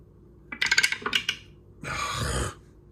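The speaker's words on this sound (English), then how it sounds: "You can always roll lucky on the dice, but I'm going to roll once." Dice rolled during a tabletop board game: a quick run of small clattering hits as they tumble and settle, followed by a louder sustained rattle, heard close and alone.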